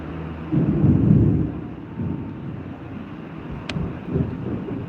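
Rolling thunder from a building storm before the rain arrives, low rumbles swelling and fading in a few waves over a few seconds, with a brief high chirp partway through.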